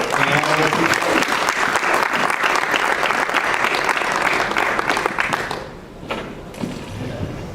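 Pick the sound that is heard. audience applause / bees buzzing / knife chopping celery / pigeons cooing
audience applause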